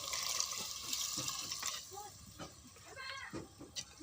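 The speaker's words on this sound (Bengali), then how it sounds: "এই যে ঝোল দিয়ে দিলাম।" Broth poured into a pot of pangas fish, potato and water lily stems gives soft watery splashing and trickling close by, mixed with faint clatter and a voice in the background.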